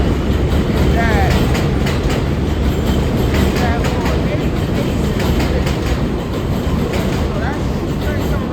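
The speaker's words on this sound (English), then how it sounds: "so that train coming right now" A train arrives at the 88th Street station, its steady loud rumble and clatter filling the whole stretch with faint screeches on top and no break.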